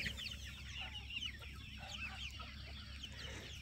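A large flock of rare free-range chickens clucks and chatters continuously. Many birds call over one another at low volume, with a steady low hum underneath.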